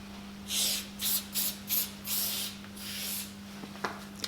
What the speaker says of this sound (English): hit it with a bit of silicone spray to start